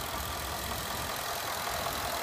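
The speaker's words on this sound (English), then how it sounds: "this beautiful 5-liter V8 engine" A 2014 Ford F-150 pickup's 5-liter V8 idles under the open hood, a steady, even mechanical hum that holds constant and fairly quiet throughout the short stretch, with no talk over it.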